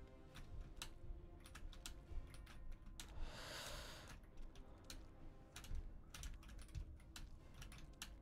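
Rapid clicking of keys on a computer keyboard during gameplay, an uneven, steady patter of sharp taps, quiet and close with no talking.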